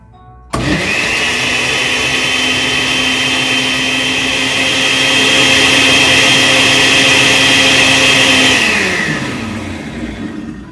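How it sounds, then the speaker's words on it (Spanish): A blender switches on abruptly and whirs steadily, blending orange juice with cochinita pibil spices, its loud motor drone holding for about nine seconds before winding down. "Y vamos a agregar el jugo de naranja. Y luego procedemos a licuar."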